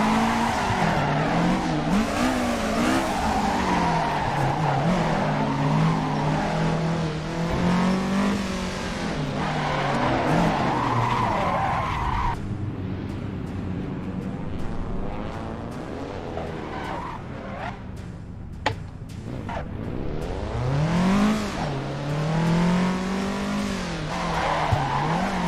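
Tires squeal continuously as a car drifts around a circuit in the Assetto Corsa racing game, an engine revving and wavering in pitch underneath, loud and close throughout with a brief lull midway.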